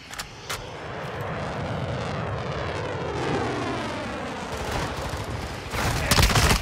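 An airstrike aircraft flies over in the Modern Warfare 2 video game, a loud sustained roaring rush that swells and sweeps across, with bursts of gunfire and sharp impacts at the start and the end.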